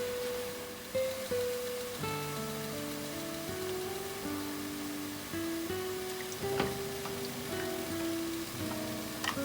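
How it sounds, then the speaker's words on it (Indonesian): Water pours steadily into a blender jar with a continuous splashing trickle and a gurgling, shifting tone. It is close by, with no talking. "Ini air mau gua tambahkan ke tempat ini nih, ke tempat bekas blender ini nih"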